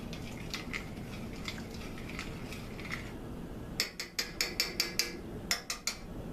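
A spoon scrapes and clicks against the bottom of a pan of chicken chili, first as a dull steady stirring noise, then as a quick run of sharp metallic taps near the end.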